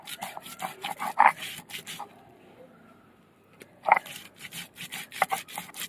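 Soaked biuli (urad) lentils are ground by hand into a coarse paste for dhoka, rhythmic scraping rubs close up in two bursts separated by a quiet pause.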